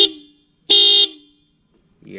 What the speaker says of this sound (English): अभी देखिए double horn